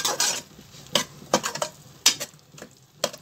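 Masala mixture for brinjal and drumstick chops is sautéed in a pan, heard as irregular bursts of spoon scraping and metallic clinks over a faint, low sizzle, with quiet gaps between strokes.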